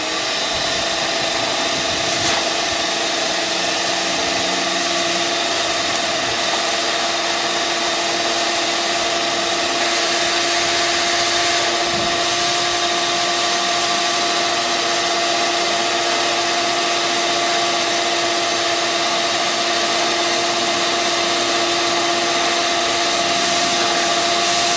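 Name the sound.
shop vac blowing air into a bear skin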